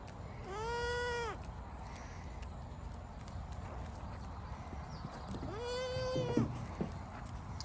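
Pygmy goats bleat twice, each a wavering, harmonic-rich call, with hoof clip-clops and quiet farmyard background between them.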